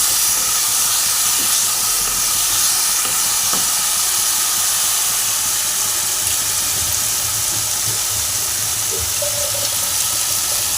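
Masala cooks with water in a pan for a bhetki fish bone curry, giving a loud, continuous steamy hiss and bubbling that stays steady throughout.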